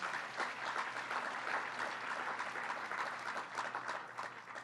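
Indoor audience applause at a Penn Station entrance design unveiling, sustained dense clapping from many hands, steady and fairly close, fading slightly at the end.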